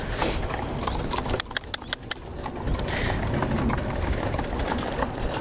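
Horses at an old farmstead in the Münsterland clip-clop in a short run of sharp hoof strikes, heard over steady outdoor background noise with birds cooing nearby.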